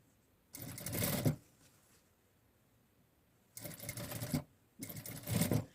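A sewing machine stitches rayon bias binding onto the body of summer jar pants in three loud, rapid bursts: a long run, a pause, then two shorter runs, with no talking.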